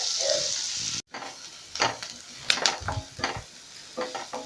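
Small chopped onions frying in a pan with steady sizzle and crackle, plus a few clacks of a spatula stirring, close and moderately loud, with no talking.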